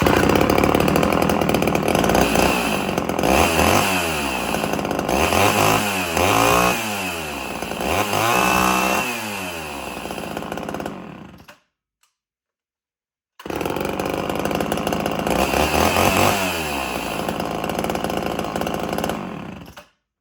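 Hot chainsaw, started with one pull, runs loudly up close, revving up and down repeatedly, then cuts out briefly before running again at a steady high pitch.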